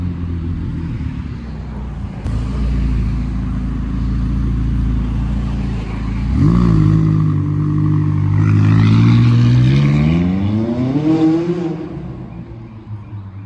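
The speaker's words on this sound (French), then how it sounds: "Donc je viens de nous filmer la McLaren 570S" A modified McLaren 570S supercar accelerates away on a Paris street, its engine note climbing in rising revs and swelling louder before easing off, with a low rumble underneath.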